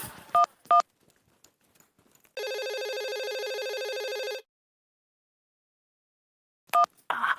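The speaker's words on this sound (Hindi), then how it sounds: "अब जल्दी से फोन करो।" Telephone keypad tones: two short touch-tone beeps, a pause, then a sustained ringing tone for about two seconds, silence, and another tone burst, all clear and close with no talking.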